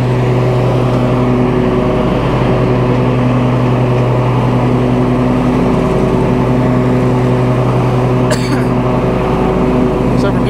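A John Deere X380 lawn tractor mows grass with its engine running steadily at full throttle, a loud, constant drone with strong harmonic hum close to the microphone for the whole stretch.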